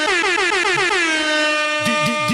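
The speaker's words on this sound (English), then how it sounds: "An air horn noise?" A loud air horn sound effect plays from a phone, a sustained blaring tone that wavers at first, then holds steady before stuttering into a few warbling pulses at the end.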